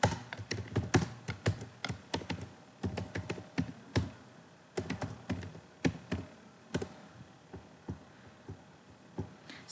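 A query is typed on a computer keyboard in rapid clusters of crisp, close key clicks with brief pauses between bursts, and no other sound.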